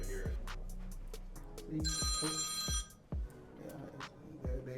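A telephone rings with a bright, trilling bell in bursts, alongside a few dull thumps and knocks in a quiet room.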